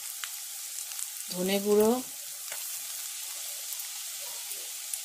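Dry ground spices such as turmeric, cumin and coriander sizzle in hot oil in a home kitchen, a steady frying hiss beneath a voice speaking briefly.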